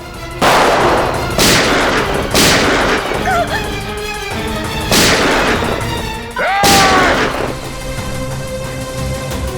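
Loud gunshots ring out in a TV crime drama shootout, about five sharp blasts spaced irregularly with ringing tails, over a dramatic music bed.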